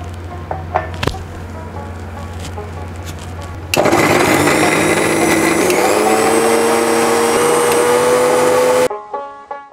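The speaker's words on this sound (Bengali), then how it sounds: "এবার এটাকে আমি একটু মশলা পিষে নেব।" An electric grinder whirs loudly as it pulverises soaked cumin into a spice paste, a steady motor drone that starts abruptly after a few light clicks and knocks, rises slightly in pitch, then cuts off into brief rattling.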